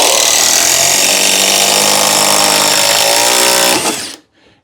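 A power driver whines steadily as it drives a screw into a wooden stair header, its pitch climbing toward the end before stopping abruptly, loud and close with no talk.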